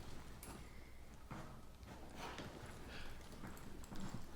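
A horse lopes while working a cow in a reining and cow-work session, its hooves making a steady clip-clop at moderate distance over a soft ground noise, fairly faint, with no talking.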